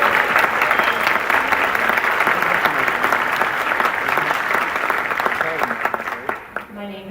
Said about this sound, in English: another round of applause for our Willow Orchestra